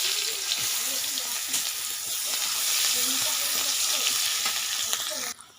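Sliced onions with whole dried red chillies and nigella seeds fry in hot oil for a bhola fish tel jhal, crackling steadily with stirring scrapes throughout, then stopping abruptly near the end.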